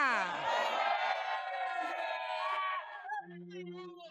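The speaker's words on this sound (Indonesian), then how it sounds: "Tepuk tangan dong untuk Ayu Arwana." Studio audience on an Indonesian television show cheering and shouting in a loud, dense wash that tapers off after about three seconds, leaving a faint murmur.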